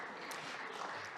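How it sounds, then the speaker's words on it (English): An audience at a church gathering claps: a dense, steady wash of many hands clapping at once, fairly soft and continuous through the brief moment. "You already got the answer from that clapping."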